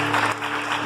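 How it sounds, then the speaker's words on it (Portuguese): A church congregation applauds during a worship service, a dense, steady wash of clapping that fills the short moment with a faint hum beneath. "Aplauda Ele em nome de Jesus."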